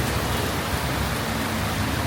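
A steady, loud wash of rain falls at night in Laos, a dense continuous hiss with no talking over it.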